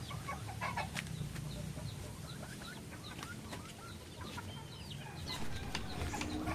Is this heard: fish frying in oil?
no